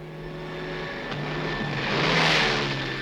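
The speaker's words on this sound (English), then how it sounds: "People ask sometimes if I was nervous about flying in those little two-seater planes" A small two-seater propeller airplane drones past, its engine hum rising steadily to a broad peak and easing slightly at the end, heard alone without speech.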